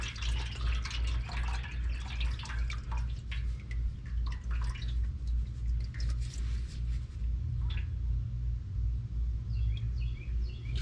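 Warm transmission fluid from a 2014–19 Silverado/Sierra 6L80 pan drains with a continuous splashing trickle and scattered drips, moderately close over a low background rumble.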